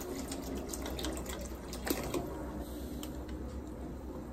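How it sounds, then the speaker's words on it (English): Water from a tap pours steadily into a cooking pot of potatoes, a continuous close splashing fill for about four seconds with no talk. "the water doesn't cover the potatoes, so we're just gonna add a little bit more until it covers the potatoes completely."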